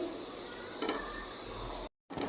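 A bhakri pizza base roasts on a pan over a medium gas flame, giving a steady dry hiss with faint scraping that cuts out briefly near the end, then resumes.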